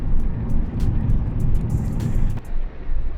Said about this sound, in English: the buffeting and noise from the traffic as it passes